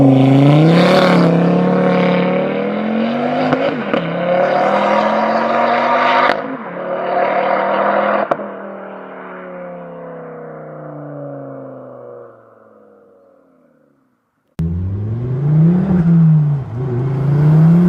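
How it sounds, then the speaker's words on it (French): A Ford Focus RS five-cylinder engine with a stainless steel exhaust line roars through several loud passes, climbing and falling in pitch as it accelerates by and fades into the distance, then builds again with revving under no talk. "je vais te filmer faire quelques passages pour entendre le son du moteur"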